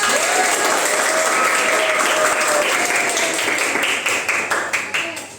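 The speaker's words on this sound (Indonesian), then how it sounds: "Beri aplaus dulu buat kita semua" A classroom group gives a loud, sustained round of applause lasting several seconds, with dense clapping that thins into scattered individual claps toward the end.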